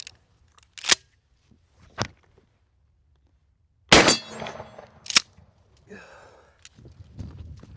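Shotgun slug shots: sharp, loud blasts ring out alone, one near the one-second mark, another at two seconds, then a heavier crack at four seconds followed by a ringing tail and another blast just after five seconds.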